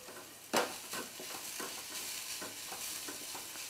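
Sandwich stuffing with coriander being stirred in a pan, heard as a run of close, soft scraping strokes over a faint background hiss, with one sharper knock near the start.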